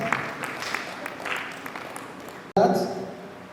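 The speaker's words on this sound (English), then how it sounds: "Can you give her a sample round of applause?" A crowd applauds a guest, the Director General of a women's development centre, at a community climate change adaptation event: a steady wash of clapping that cuts off abruptly, and a voice then speaks over the fading noise.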